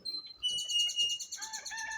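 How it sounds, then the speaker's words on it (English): Small birds twitter outdoors among plants, fruit trees and pigs, with a quick run of bright, repeated chirps and whistles. Several calls overlap, fairly close and clear, with no talking. "There's a lot of birds, and I love to hear the birds"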